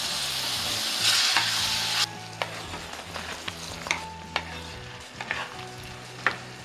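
Chickpeas fry in a pan for kadala curry, a loud sizzle at first that drops back after two seconds, then quieter frying broken by repeated sharp scrapes and taps of a spoon stirring.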